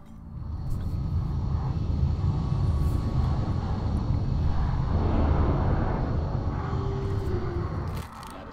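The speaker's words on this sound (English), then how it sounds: "You guys hear that plane?" A propeller or jet airplane rumbles loudly and steadily overhead in a quiet moment between rounds of an XCOM game session, a broad low roar sustained for about eight seconds before easing off slightly at the end.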